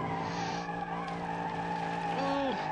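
A car drifting in a racing video game, its tires squealing in long sustained wails over a steady engine drone, with the squeal's pitch sliding around near the end.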